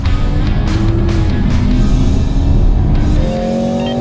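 A BMW X3 M50, Audi SQ5 and AMG GLC 43 launch in a drag race, filling the scene with loud, continuous engine roar and strained tyres, with rising revving tones near the end.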